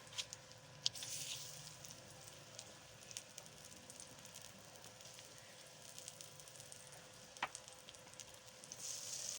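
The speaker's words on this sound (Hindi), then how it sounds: "घी गर्म हो गया है, तो अब हम एक एक टिक्की डालते जाएंगे।" Aubergine tikkis frying in hot ghee on a tawa, a faint, even hiss of sizzling oil with a few sharp crackles and pops.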